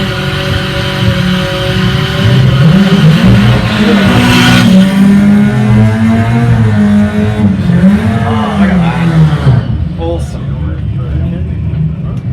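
A Honda Civic launches on the Santa Pod drag strip during a sports compact shootout, its engine roaring loud and close with rising, wavering revs as the car pulls away. A commentator talks over it.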